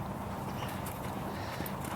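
A horse walking, its hooves clopping in a steady even rhythm amid constant broadband background noise, moderately close, with no talk.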